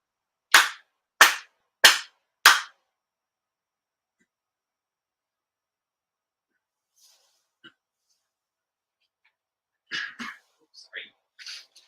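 Four sharp, evenly spaced ritual hand claps ring out at a Shinto prayer gathering, loud and close. A quiet pause follows, then a voice begins chanting a prayer.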